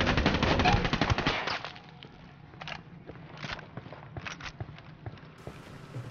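Video game gunfire in Ghost Recon Wildlands: a loud burst of rapid automatic fire, then scattered quieter shots and footstep-like sounds trailing off.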